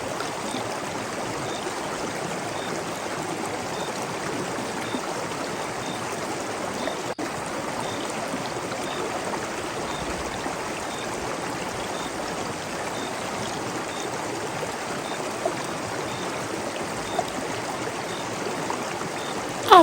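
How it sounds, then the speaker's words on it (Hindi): A cartoon waterfall pours steadily, a continuous rushing stream of water with a faint, even hiss that holds at a constant level throughout, with no voices. "इस बाल्टी को ले और उस झरने के नीचे जाकर खड़ी हो जा।"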